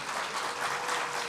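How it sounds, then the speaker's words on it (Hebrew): Audience applause at an ocean day event on marine reserves, a steady dense wash of clapping from a crowd sustained evenly throughout. "מגיעות לה המון מחיאות כפיים."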